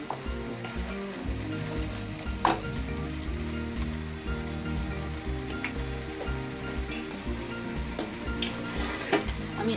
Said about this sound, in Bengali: আমি স্টকটা করে নিয়েছি, এটাকে আমি ঢেলে দিচ্ছি।